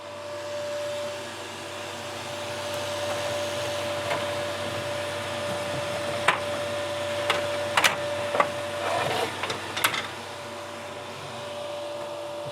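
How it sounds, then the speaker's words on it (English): A laser engraver, used for cutting plywood, travels back to its home position: a steady fan-like hum with a faint whine runs throughout, and a few short mechanical clicks and buzzes from the moving head come near the end. "Let's move the laser to the home position."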